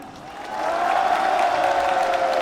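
Crowd applause for the announcer at a French professional wrestling show in Paris, a steady wash of clapping that swells after a moment and holds, with some cheering mixed in.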